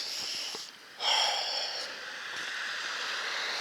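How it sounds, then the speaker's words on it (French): Someone takes slow, deep breaths to calm down, heard as close, airy inhales and exhales with a brief pause between them. "vous prenez 2-3 respirations comme ça, vous voyez."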